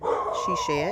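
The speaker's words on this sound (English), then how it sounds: "Sorry about the dog in the background barking." A short dog bark or yip sounds close by, mixed with a voice talking at the same moment.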